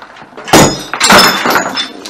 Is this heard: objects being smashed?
yes